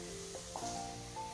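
Three bacon rashers frying in a pan: a steady, close sizzle with faint crackles throughout.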